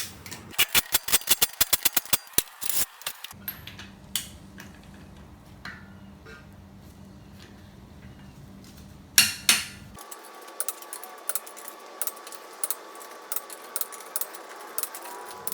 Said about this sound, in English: I'm going to use a torque wrench with the lug nuts and torque all the lug nuts